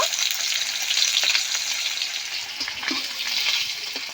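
Pieces of hilsa fish fry in hot oil in a pan, giving off a continuous bright, spitting sizzle with scattered pops, close and steady throughout.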